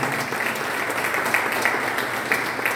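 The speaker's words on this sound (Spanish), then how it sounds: "Den un aplauso al Señor." A church congregation applauds the Lord during a sermon, giving a brief, even burst of dense clapping that holds steady throughout with a few louder accents.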